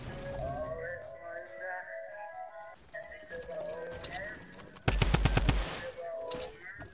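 A quick burst of about half a dozen gunshots rings out partway through, loud and close, set against a busy, tonal background with hoof-like clopping.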